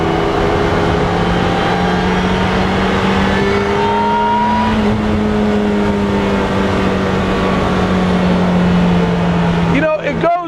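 Rezvani Beast Speedster engine screaming near 8,000 RPM, a loud sustained high whine with slowly shifting pitch close by, ending in a brief burst of wind or rattling noise.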